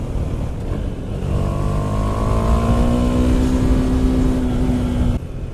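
A 2018 KTM 390 Duke small-displacement motorcycle is heard from the rider's position as a loud, close engine drone whose pitch climbs steadily under acceleration for about five seconds before easing off.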